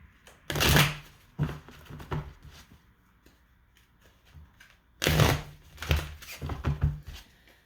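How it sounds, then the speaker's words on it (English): Two bursts of riffling and shuffling tarot cards, each a rapid flurry of papery slaps and clicks, separated by a quieter pause with faint handling sounds. "One more shuffle."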